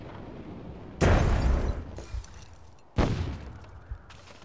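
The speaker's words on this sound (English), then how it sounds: "Over here, we can blow up this wagon." Two loud booming blasts, one just after the other, as satchel charges blow apart a wagon in the video game Myth II: Soulblighter, each burst trailing off into crackling debris.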